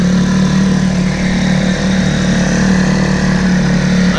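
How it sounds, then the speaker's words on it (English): A salvaged 4 hp Eska outboard motor with a freshly rebuilt carburetor runs steadily at idle, a continuous close, loud, even engine drone with no speech over it. "I think it's a nice running motor for, again, out of the salvage yard."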